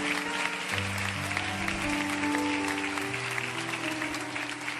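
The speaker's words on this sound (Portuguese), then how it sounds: "Você pode aplaudir Jesus" A church congregation applauds during a celebration service, steady dense clapping layered over sustained keyboard chords from live worship music, with voices faintly mixed in.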